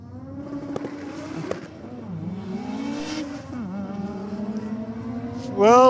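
A Mazda rotary drag race car drones at the track, its engine tone wavering and climbing steadily before a sudden loud rev at the end.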